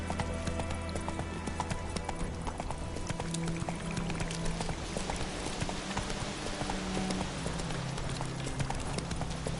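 Roach, the horse in The Witcher 3: Wild Hunt, gallops with a steady, fast clip-clop of hooves, moderately close and continuous throughout, over faint ambient game sound.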